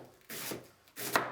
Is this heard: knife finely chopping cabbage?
yes